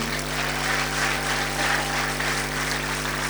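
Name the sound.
applause for Jesus in church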